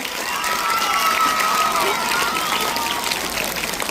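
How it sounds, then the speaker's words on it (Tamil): An audience at a Tamil literary club celebration at a government model higher secondary school in Thopputhurai applauds with steady, dense clapping that holds for several seconds, with raised voices and shouts mixed in. "எங்க சிங்கங்களுக்கு ஒரு மாதிரி நல்லா கைத்தட்டல் கொடுங்க"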